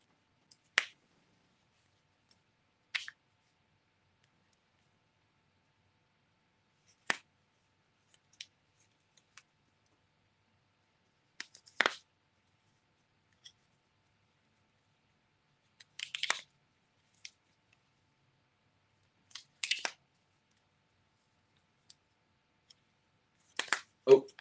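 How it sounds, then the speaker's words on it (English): Magnets on a Shashibo Octa shape-shifting cube snap together in sparse, crisp clicks and clacks, sometimes single and sometimes in short clusters, separated by stretches of quiet. "I'll just let you guys listen to the nice clicks and clacks of the magnets as we go through"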